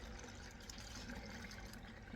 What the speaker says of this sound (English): now I'm going to pour the sugar water in